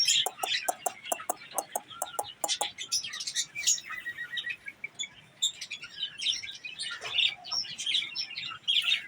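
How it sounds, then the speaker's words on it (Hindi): A desi hen pecking at and attacking her chicks, with rapid repeated clucks and sharp chick cheeps close by, loud and busy throughout. "मुर्गे से ज़्यादा ख़तरनाक मुर्गी है भाई ये देखो बच्चे को मारने लग गई है"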